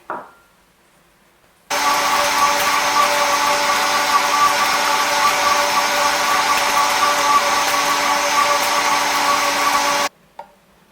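A blender switches on abruptly and runs at a steady, loud whirring pitch for about eight seconds, blending spices with water, then cuts off.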